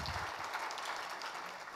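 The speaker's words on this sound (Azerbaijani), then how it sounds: "gəlin, biz spikerlərimizə söz verməmişdən əvvəl bir özümüzü və spikerlərimizi alqışlayaq" A marketing forum audience claps steadily in a hall, a brief continuous patter of applause at moderate level.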